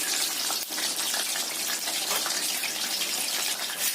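Food deep-frying in hot oil for a home-style Indonesian dish, a continuous crackling sizzle that stays even and fairly close throughout.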